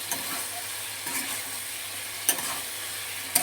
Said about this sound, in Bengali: আলু পটলটা যে আমি ভেজে রেখেছি সেটা আমি দিয়ে দিচ্ছি এই মশলার সঙ্গে একসঙ্গে কষিয়ে নেব আলু পটলটাকে